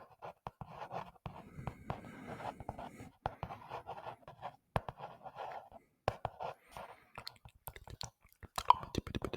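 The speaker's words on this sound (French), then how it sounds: "Je te dessine, je te dessine, je te dessine." A pen scratches across paper in close, quiet ASMR strokes, with short bursts of soft scribbling broken by taps and clicks and a whispering voice in between.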